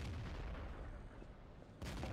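Gunfire batters a defensive turret in the video game Empires Mod, a dense, rumbling barrage of shots and booms that continues throughout, dips slightly, then surges again. No voices are heard.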